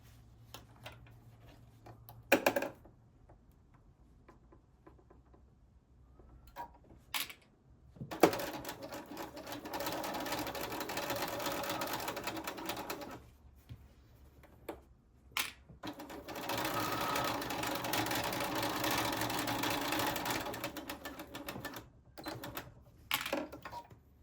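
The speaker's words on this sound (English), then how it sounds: "we're going to sew this at 1/4 of an inch" A sewing machine runs a quarter-inch seam along the edge of a quilted sneaker piece, whirring in two long steady bursts and several short spurts, separated by pauses and handling clicks in a quiet room.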